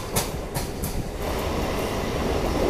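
A train pulls into Bidhannagar railway station at midnight: a few sharp metallic knocks, then a steady rumble and clatter of wheels that builds as the cars roll past, with no voices.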